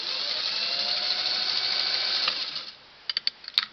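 A Singer 301A sewing machine runs steadily stitching fabric on a longer stitch, a close continuous mechanical whir that stops near the end, followed by a few light clicks.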